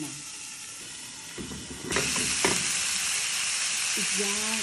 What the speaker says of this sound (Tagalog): Halu-haluin yan. Halu-haluin lang.